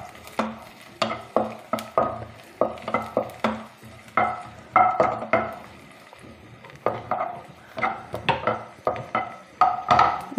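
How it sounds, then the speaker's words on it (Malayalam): Cashew nuts and raisins roasting in a pan for whole wheat payasam, heard as a close series of sharp stirring scrapes and light clinks of a spoon against the pan, repeated rhythmically with a faint sizzle underneath. "ഇനി അതിലേക്ക് 1 സ്പൂൺ കാഷ്നട്ടും കൂടെ ഇതുകൂടെ നല്ലതുപോലെ വറുത്തെടുക്കാം"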